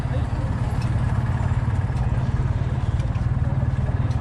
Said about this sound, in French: Moteur de la DeLorean.